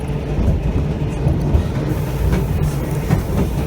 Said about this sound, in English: This little trestle we're going across here was built specifically for the trolley